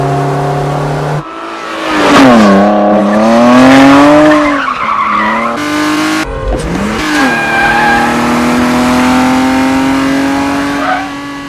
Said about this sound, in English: Ronin's focus on roaring engines, on the other hand, makes you hold your breath.